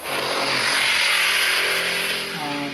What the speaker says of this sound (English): Ducati motorcycle going by.